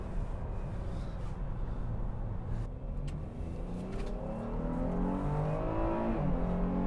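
A 2019 Chevrolet Blazer Premier AWD family crossover accelerates, its engine note rising steadily in pitch and growing a little louder, heard close and continuous with no one talking.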